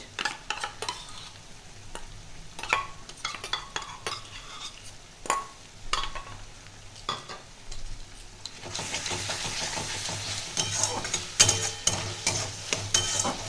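Ginger-garlic paste sizzles and fries with browned onions in a pan for chicken do piazza, with a spoon stirring in repeated scrapes; the sizzle swells louder and brighter partway through.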